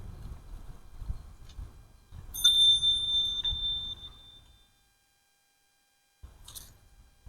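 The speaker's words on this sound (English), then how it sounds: "if you wonder why you hear us use the bell so much" A single bright ring of a bicycle bell on a recumbent bike sounds at a blind corner on a creek trail, one clear ding that decays over about a second, over rolling road noise, followed later by a second short ding.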